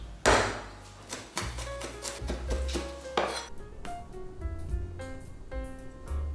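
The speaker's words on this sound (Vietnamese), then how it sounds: "Tỏi mình cũng băm cũng đập dập luôn." A knife mincing and crushing garlic on a board makes several close, sharp chops and thuds at an irregular pace, alone without talk.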